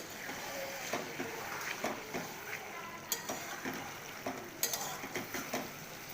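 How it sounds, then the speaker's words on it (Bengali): Prawns and bottle gourd sauté in oil in a pan, a steady close sizzle broken by repeated scrapes and clinks of a spoon stirring through the mix, with no one speaking. "আস্তে আস্তে কষছে এবং সেদ্ধও হয়ে যাচ্ছে।"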